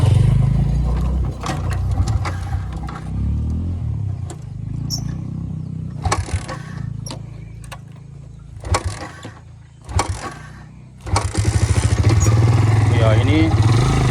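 Motorcycle engine idling and revving in bursts on a narrow path-like road to Sibio Bio, with clattering, uneven throttle surges and people talking over it.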